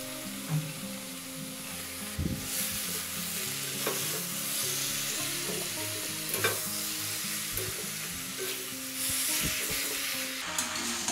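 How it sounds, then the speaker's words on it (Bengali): Mushrooms frying in spice masala over a high flame, with a steady loud sizzle throughout and repeated scraping stirs of a spoon in the pan. "এই সময় আমি দিয়ে দেবো মাশরুমটা একটু ভেজে নেব"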